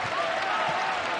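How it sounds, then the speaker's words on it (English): Steady, dense applause from a large basketball crowd fills Mizzou Arena, a continuous roar of clapping with a faint voice underneath. "Nick Honor gets a round of applause from the faithful here at Mizzou Arena"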